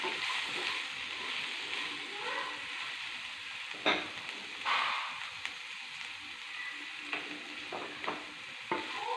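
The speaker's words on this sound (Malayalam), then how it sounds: "ആ ഉള്ളിയും പച്ചമുളകും ഒക്കെ ഒന്ന് വഴണ്ടി വരുന്നവരെ നമുക്കൊന്ന് ഇളക്കി" Onions and green chillies are stirred and sautéed in a pan for an okra milk curry, with a steady soft sizzle and occasional scraping strokes of the spoon, close and fairly quiet, no talking.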